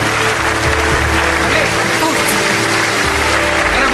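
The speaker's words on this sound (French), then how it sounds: "On l'applaudit très fort, Luigi Tenco" Loud, continuous audience applause greeting Luigi Tenco at the Sanremo festival, a dense unbroken roar of clapping that fills the whole stretch, heard up close with a low background hum beneath.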